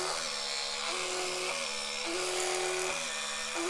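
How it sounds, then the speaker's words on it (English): An Oral-B Pro 2 2000N electric toothbrush running close by, a steady high buzzing whine whose pitch drops and rises in a repeating pattern roughly every second, alone without talking. "you can hear the tone of the toothbrush changes as well to reduce damage to your gums"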